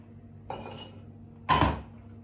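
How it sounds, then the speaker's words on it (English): Freshly picked courgettes tipped into a bowl in a kitchen, giving two clattering handling sounds, a softer one followed by a louder, fuller knock about a second later, close up with no talk. "so I've got a nice lot of courgettes there, which I'm going to put into a bowl"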